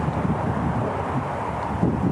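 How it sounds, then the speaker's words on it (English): Wind blows steadily outdoors as a continuous low rumbling buffet across the microphone, with no other sounds standing out. "it's pretty windy today"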